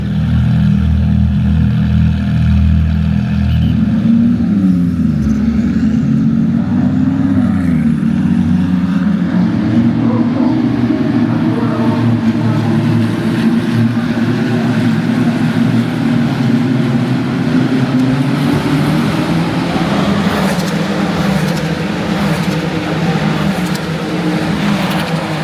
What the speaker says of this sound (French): Les moteurs vont démarrer, tour de chauffe et départ.